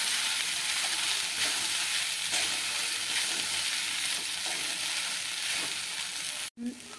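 Soaked poha sizzles and crackles in a hot pan as it is stirred and fried, a steady close-up hiss with faint scraping strokes, ending in a brief clatter.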